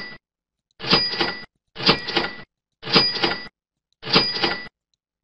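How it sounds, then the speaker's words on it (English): A cash register sound effect plays four times at even intervals, each a short bright burst of ringing and mechanical clatter with silence between. "Effect options, cash register."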